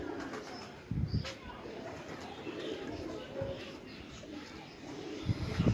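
Pigeons in a rooftop loft coo in low, steady murmurs at a moderate distance, with a few louder thumps and bursts of nearby voices over them.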